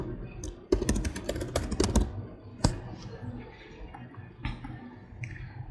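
Close-up typing on a computer keyboard: a quick burst of crisp key clicks, then scattered single taps separated by short pauses, with nothing else in the background.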